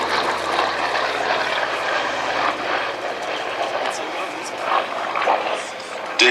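A B-17 bomber flies past at an air display with smoke trailing, its piston engines giving a continuous distant rumbling drone while an announcer talks over it.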